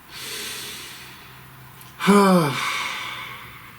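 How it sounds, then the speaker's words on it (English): A single deep breath drawn in and let out as a heavy sigh, close and fairly loud, following a quiet stretch. "Please take a nice deep breath. One more."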